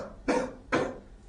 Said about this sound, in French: Je vais vous demander de tousser un petit peu.